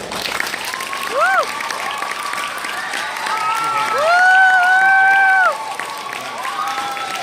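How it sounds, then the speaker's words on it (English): Crowd applause with some cheering for young spelling bee contestants at Trinity University, steady clapping in a hall overlaid by whistle-like tonal sounds that swell midway. "I want to give a big round of applause to all 19 kiddos who are up here."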